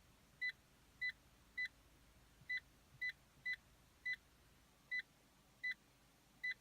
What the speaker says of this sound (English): It beeps when you go over the speed limit.